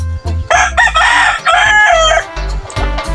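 Roosters of a claret sweater-colored line crow repeatedly and loudly at close range, several overlapping cock-a-doodle-doo calls in quick succession with occasional clucking between them.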